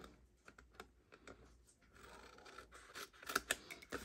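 Scissors snipping paper rectangles for a handmade treat box: quick, light clicks and cuts close by, speeding into a busier run of snips toward the end, with no speech.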